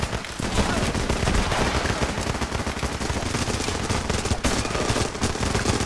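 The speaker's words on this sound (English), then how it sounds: "He's using his light machine gun propped up against the wall." Sustained light machine gun fire in the shooter game Running with Rifles, fired from a weapon braced against a wall, with dense rapid bursts of shots running continuously throughout at steady, loud level.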